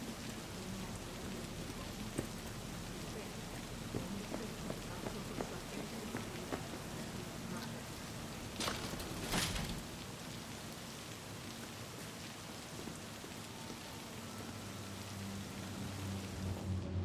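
Steady rain pours in the game Cyberpunk, a dense even hiss of drops on surfaces with a brief louder burst near the middle, heard alone with no talk.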